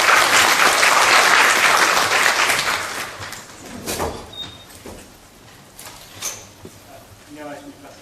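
Audience applause welcoming the moderator at an academic forum on urban hanok housing: loud sustained clapping from a crowd that fades over several seconds, with some chatter and knocks as it dies down.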